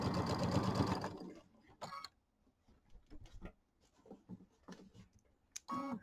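A sewing machine stitches along the sides of a bird-themed quilt, running loud and steady for about a second, then only short scattered bursts and faint handling noises follow.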